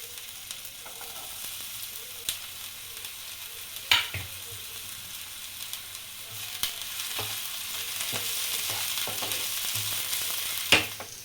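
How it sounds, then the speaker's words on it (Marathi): Chopped onion sizzles steadily in hot oil in a pan for vegetable Manchurian, with a few sharp utensil clacks standing out over the continuous frying. "तेल थोडं टाकून घेतलं मी। आता कांदा टाकते"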